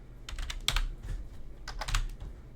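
Typing on a computer keyboard, quick close clusters of keystrokes in two short bursts with a brief pause between them.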